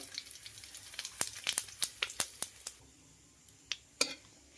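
Bay leaf, cumin and dried chilli crackle in hot oil, with a burst of sharp, close pops and snaps over a soft sizzle that thins out to a few scattered crackles.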